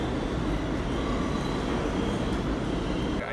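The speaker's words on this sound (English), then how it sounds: "I think the train's here." Manhattan-bound F local subway train pulling into the station, a loud continuous rumble and rail roar filling the platform, steady throughout with a faint squeal near the end.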